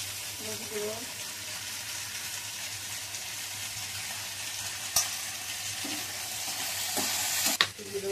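Tomatoes and okra fry in oil in a pan, giving a continuous broad sizzle close up with a few sharp clicks and knocks from the utensil, and no one talking.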